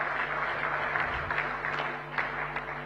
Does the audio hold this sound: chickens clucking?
no